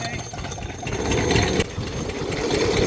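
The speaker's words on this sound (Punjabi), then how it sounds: "ਤੁਹਾਨੂੰ ਇੰਜਨ ਚੱਲਦੇ ਵੀ ਦਿਖਾਉਣੇ ਆਂਗੇ" A diesel engine running beside a paddy field for irrigation, a steady mid-pitched chugging drone close by that swells slightly partway through.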